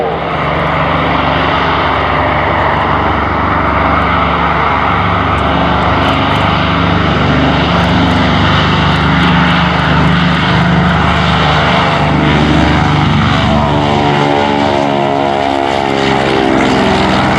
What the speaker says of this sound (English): C-46 Curtiss Commando on the takeoff roll